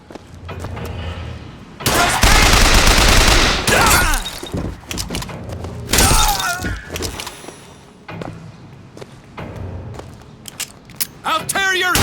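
Gunfire in the BioShock Infinite video game plays as a loud, sustained burst of rapid shots, followed by scattered shots, mechanical clanks and thuds, with voices underneath.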